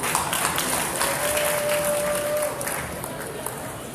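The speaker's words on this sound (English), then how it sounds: "really a big round of applause to all of you" Applause from the audience at the IIFA 2017 press conference in New York City, a dense, steady patter of many hands clapping that carries through the whole stretch and eases slightly toward the end.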